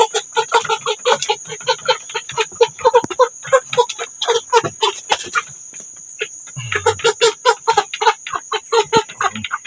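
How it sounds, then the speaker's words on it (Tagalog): Steady clucking from a group of chickens, repeated short calls close by, with a constant high insect-like buzz running underneath. "Ayan guys, malalaki na yung ating manok."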